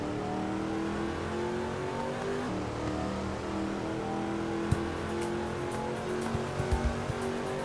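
A car engine in an Xbox indie driving game hums steadily at mid pitch with shifting revs, then a sharp knock and a few faint thuds near the end.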